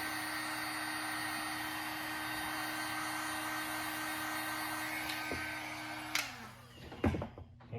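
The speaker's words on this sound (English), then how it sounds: "dry it again with a hairdryer type heat or a heat gun on low" A heat gun on low drying air-dry filler blows with a constant whining hum close by, then switches off near the end, followed by a few clattering handling noises.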